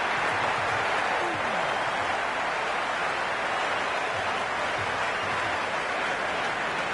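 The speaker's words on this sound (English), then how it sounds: "There's a buzz, a real buzz coming from the stands." Crowd noise from the stands in the cricket video game Cricket 26, a dense, steady roar of spectators that holds at an even level throughout, with no commentary over it.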